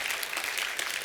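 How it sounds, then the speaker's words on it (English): Brief, soft applause from a small audience at a talk, a faint steady patter of clapping lasting about a second. "a pity applause"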